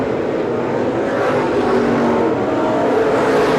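Open wheel race cars at Seekonk Speedway during a race, their engines producing a loud, steady, continuous roar throughout with no voices.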